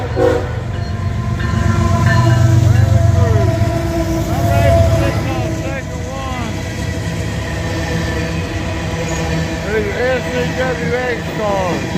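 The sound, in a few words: GP40 freight train slowing down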